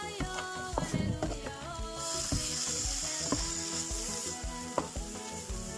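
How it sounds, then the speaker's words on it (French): Onions sautéing in about two spoonfuls of hot oil, a bright steady sizzle broken by many quick scraping and knocking strokes of a utensil against the pan, close and busy. "Là je vais juste rajouter à peu près 2 cuillères à soupe d'huile. Voilà. Pour faire sauter les oignons."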